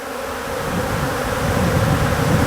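An Africanized honeybee colony buzzes loudly and up close, a dense continuous drone that swells slightly over a couple of seconds.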